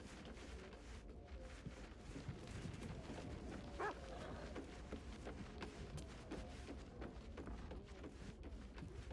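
A dog in Baldur's Gate 3 gives soft, repeated yips and whimpers, fairly quiet and close, with no voices over it.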